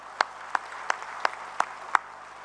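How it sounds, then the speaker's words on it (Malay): Applause at the UMNO general assembly, heard as six evenly spaced, crisp claps in a steady rhythm over a low, hollow hall background, fairly soft and distant. "Najib Tun Abdul Razak, Presiden UMNO, kita berikan tepukan bergemuruh"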